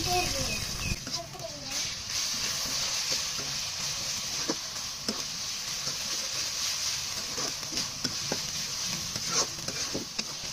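Ginger and garlic frying with already-fried onions in a pan for a chicken curry, giving a steady close sizzle broken by scraping stirring clicks throughout.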